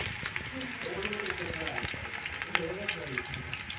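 Onion frying in a pan for chicken curry gives a steady, close sizzle with soft stirring scrapes and small pops throughout, and a voice is heard faintly now and then.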